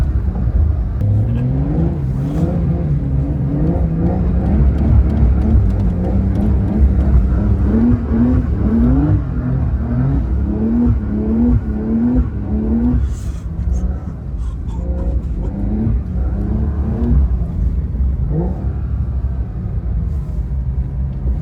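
Porsche 992 Dakar flat-six revving hard in deep snow, its pitch rising and dipping repeatedly as the throttle is worked, loud and close with a steady rumble of wheels churning beneath.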